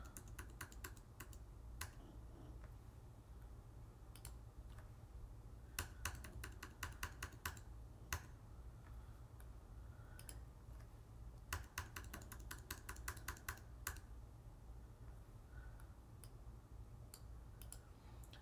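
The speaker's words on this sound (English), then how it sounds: "I can do it with my mouse, or I can use the arrows on my keyboard." Typing on a computer keyboard comes in quick bursts of sharp key clicks, clustered runs with pauses between them, close and fairly quiet over a low steady hum.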